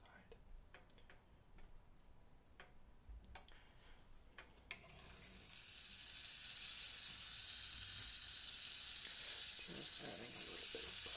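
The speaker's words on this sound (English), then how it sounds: "cooking the meat, frying up the onion," Quiet clicks and taps give way midway to a loud, steady hiss of meat and onion sizzling in a hot pan, building and holding to the end.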